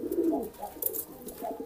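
A pigeon cooing during courtship, giving a few soft, low rolling coos close by, with faint rustling between them.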